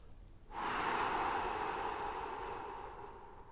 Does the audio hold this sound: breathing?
yes